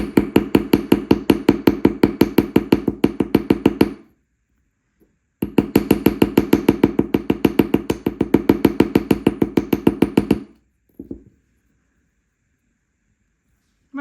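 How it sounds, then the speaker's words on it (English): Rapid, even taps of the ball-peen end of a metal hammer texturing a piece of wire jewelry, two long close bursts of dense rhythmic strikes separated by a pause, then a few scattered final taps. "you can use the pinball side of your hammer and just give it a little bit more texture."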